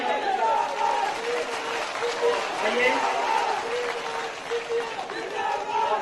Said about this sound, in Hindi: जोरदार तालियां सिंधिया जी के लिए